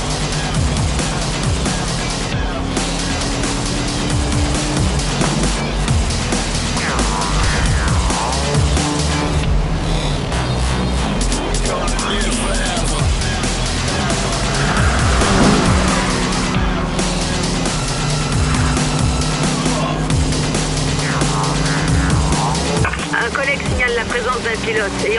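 Police car chasing a suspect vehicle, with a continuous loud engine roar, tire squeal and skidding throughout, mixed with radio chatter and voices over the driving noise.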